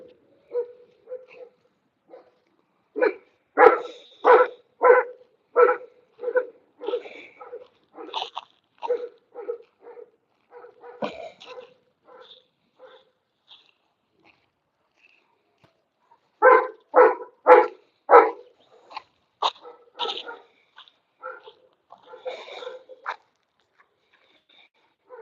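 Dogs bark in repeated bursts at a fenced outdoor spot, clusters of sharp woofs with short gaps, moderately near, then quiet whimpers and yips before a second run of barking and scattered softer yelps.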